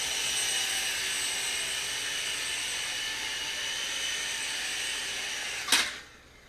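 Sky Rover Navigator toy RC helicopter landing, a steady high-pitched motor whine that ends with a brief thump at touchdown and then fades.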